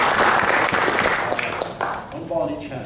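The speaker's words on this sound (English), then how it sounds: "please, a big round of applause for Lisa." Audience applause for a volunteer at a stage show, a dense burst of clapping that swells then fades, with voices talking over it near the end.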